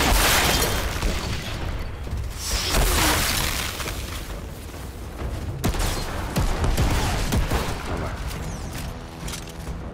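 Gunfire and explosions in the shooter game Outriders, with a sniper rifle among the weapons, forming a dense, loud barrage of booms, bursts and mechanical clatter without a break across the whole stretch.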